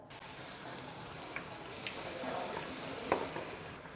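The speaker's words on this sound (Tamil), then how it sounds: "இந்த ஒவ்வொரு உருண்டையும் நம்ம இந்த மாவில் டிப் பண்ணிவிட்டு அப்படியே எடுத்து நம்ம ஆயிலில் போட போகிறோம்" Batter-coated masala bonda balls frying in hot oil, giving a steady soft sizzle throughout with a few faint pops and crackles.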